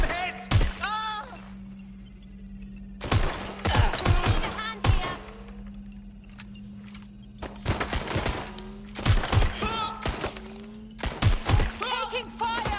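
Bursts of gunfire ring out in the video game Watch Dogs: Legion, clustered volleys of sharp shots and thuds separated by quieter stretches, over a steady electronic game hum, with shouted voices in between.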